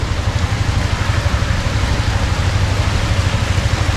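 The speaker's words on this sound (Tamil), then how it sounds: "பெரிய பெரிய வாகனங்கள் போயிட்டு இருக்குது" Large vehicles pass along a road during heavy overnight rain, a steady loud wash of rain and tyre spray with a low engine rumble running continuously underneath.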